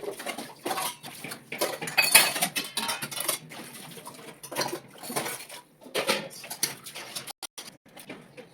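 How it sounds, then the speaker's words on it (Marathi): Dishes are being washed by hand in a home kitchen, with pots, plates and cutlery clattering and clinking in uneven bursts close by, without talk. "आता मी भांडी धुते"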